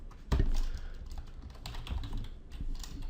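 Rapid typing on a computer keyboard while entering a short word into After Effects, with a dense run of close, steady key clicks and a couple of louder strokes.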